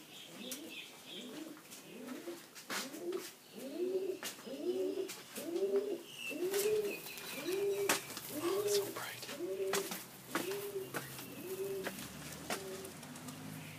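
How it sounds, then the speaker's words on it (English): Pigeons coo over and over in a steady rhythm, each call rising and falling, close by and fairly loud against faint background noise outdoors in Thailand. "Bird."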